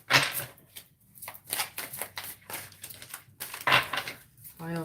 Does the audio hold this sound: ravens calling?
no